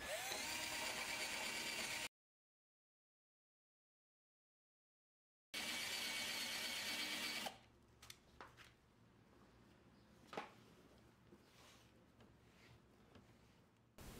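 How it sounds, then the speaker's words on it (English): A handheld drill spinning a rubber eraser wheel against a car trunk lid to strip leftover double-sided tape from a removed Audi A4 B8.5 S-Line emblem, a steady loud whir in two bursts separated by silence, then quieter scraping and ticks. "I'm going to use a drill with a rubber eraser wheel to erase off all the excess"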